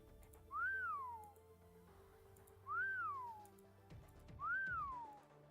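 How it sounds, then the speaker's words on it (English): Three separate rising-and-falling whistles from a character in the video game Library of Ruina, each about a second long, sounding clearly over a quiet game soundtrack. "he's whistling and Boris is the same voice actor as Sinclair"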